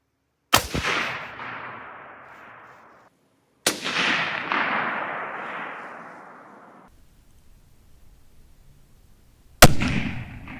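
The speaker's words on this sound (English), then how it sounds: "And then I'm gonna shoot." A hunting rifle fires at an outdoor target in three loud, sharp cracks spaced a few seconds apart, each followed by a long, rolling echo that fades away.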